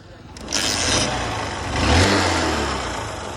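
A Honda Shine motorcycle engine starts up and revs twice in quick succession, loud and close, with a rising roar and harsh broadband noise and a faint voice underneath.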